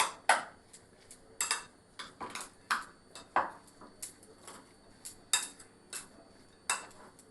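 A spoon scrapes and clinks against a bowl while radish salad is tossed with chaat masala and lemon juice, giving a steady series of sharp, close metallic taps and rattles about twice a second, with no talk.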